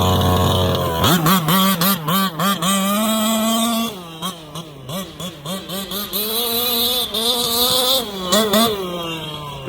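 A Losi 5ive-B petrol RC car engine at a park, revving hard and high, its buzzing whine repeatedly swooping up and down in pitch as the throttle is blipped, steady and close throughout.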